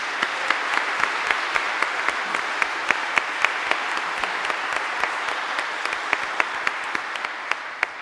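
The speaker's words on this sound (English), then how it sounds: "Give him a round of applause." A congregation at a Confirmation Mass in St Bede church gives sustained applause, an even roar of many hands with a few sharp, close claps standing out throughout.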